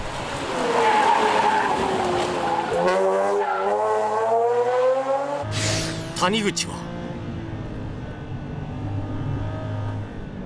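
A Nissan Z34 sports car on a mountain pass revs and howls with rising engine pitch, then tires squeal sharply as it slides through a corner, while someone talks over the engine noise nearby.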